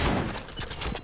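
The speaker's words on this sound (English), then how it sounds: "You got sniped." Rapid burst of gunfire from a sniper shot in a shooter video game, loud dense cracks packed into about a second with no talk.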